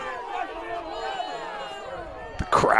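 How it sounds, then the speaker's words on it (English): A lacrosse crowd reacts angrily to a referee's call, a swell of shouting and jeering that rises sharply at the end, heard over a murmuring arena background with a commentator speaking. "The crowd angry off of that call."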